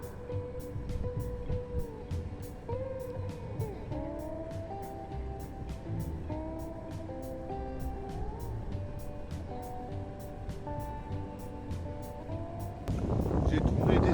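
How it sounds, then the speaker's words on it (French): Car rolling slowly over a thick layer of gravel on a country road in the Somme, with a low rumble and a steady crunch under the engine. Someone talks throughout, and a louder surge comes at the end. "je suis sur une route gravillonnée. Il y a une belle couche de gravillon"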